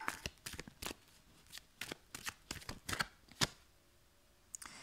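Oracle cards shuffle in quick riffling bursts, a run of sharp papery flicks close and fairly quiet, pausing near the end.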